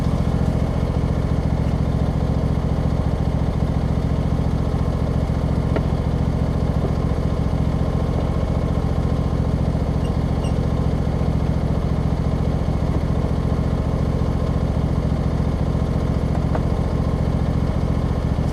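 A Husqvarna YTA24V48 riding mower with a three-bin bagger drones steadily while clearing debris after a wind storm. Its engine hum is loud, close and unchanging throughout, with no voices.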